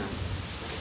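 Steady rain pours outside a home on a dreary day, a dense, even hiss with low rumbling underneath that carries on without a break through the short stretch.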